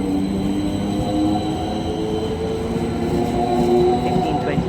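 A Greater Anglia passenger service to Colchester Town runs on the Great Eastern Main Line at Colchester with a steady, low rumble of wheels and engines. The sound stays fairly even and close throughout, with a faint, brief voice in the background.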